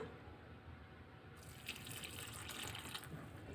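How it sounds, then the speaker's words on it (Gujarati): Water is added in small amounts to a wheat flour malpua batter, a steady soft pouring and trickling sound that becomes brighter and busier halfway through, with no talking. "ફરી વખત આપણે પાણી ઉમેરી દઈશું"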